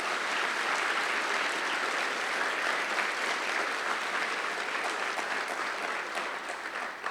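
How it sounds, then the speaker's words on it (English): Audience applause at a high school event, a dense, sustained clapping from a large crowd close by, holding steady for several seconds before thinning slightly at the end. "Please give them a round of applause."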